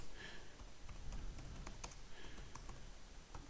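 Code is typed on a computer keyboard in quick, irregular bursts of light clicking keystrokes, close and fairly quiet, with short pauses between runs and no voices.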